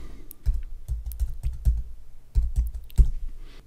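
A short word typed on a computer keyboard: a few quick clusters of soft keystroke clicks, close and fairly quiet, with a brief pause midway before the final taps.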